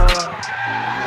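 Drift car at a drifting championship, fitted with a widebody kit, sliding with a brief sharp tire skid squeal at the start, then a sustained engine roar that carries on at steady loudness.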